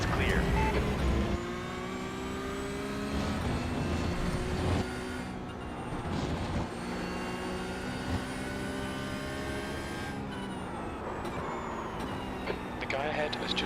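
Race cars in the Porsche Cup field of the iRacing sim roar past in a steady, loud engine drone, with gear changes and pitch shifts between cars throughout.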